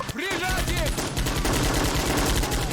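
Machine gun fire in the Men of War army game, a near, loud, rapid burst of shots running steadily for a couple of seconds after a brief vocal sound at the start.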